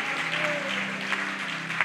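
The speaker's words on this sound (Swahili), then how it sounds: "Ongeza makofi kwa Bwana." Church congregation applauding together, a dense steady wash of clapping that carries through the whole stretch with only slight swells, a low sustained tone and faint voices beneath it.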